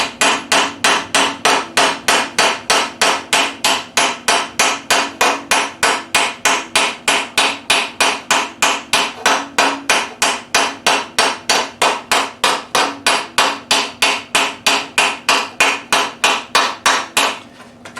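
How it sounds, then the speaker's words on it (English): A hammer planishing steel armour greaves, striking in a fast, steady, even rhythm of sharp metallic blows, loud and close, continuing without pause and with no talk. "I'm essentially hammering out hammer marks."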